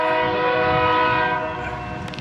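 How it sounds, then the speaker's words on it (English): A train horn sounds in a long, loud, sustained blast over the rumble of a passing train in Savannah, Georgia, fading slightly toward the end. "There's a train coming."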